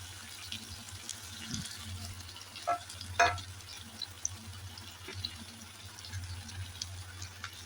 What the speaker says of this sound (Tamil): வெட்டி வச்சுருக்கிற வெங்காயத்தையும் நான் போட்டேன்